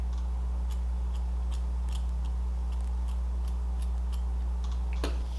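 Scissors snipping long layers into thin hair, a series of small crisp clicks spaced about half a second apart, close and quiet over a steady low hum.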